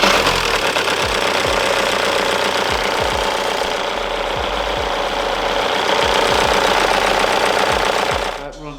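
A VW Mk5 Golf R32 V6 engine idles with a slack cam belt tensioner and the auxiliary belt off, a loud, close, rough rumble with rapid mechanical clatter that runs steadily before cutting out at the end.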